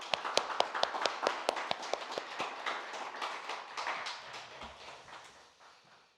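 A church congregation at a Wednesday prayer meeting claps in encouragement, sharp individual claps thinning into a softer, steady patter that fades toward the end; no voices over it.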